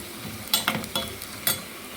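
Mutton being stirred and fried in a pan for curry: a soft sizzle beneath several sharp spoon scrapes and clinks against the pan, close and distinct with no talking.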